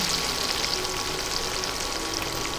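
Softened tomato with ginger and green chili paste fries in an oiled pan, giving a steady, dense sizzle that stays even and close for a couple of seconds with no voices.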